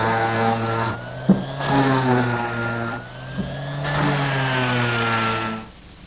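A power sander works over wood pieces for a trundle bed in a workshop, running with a steady hum in repeated passes and a couple of sharp knocks between them.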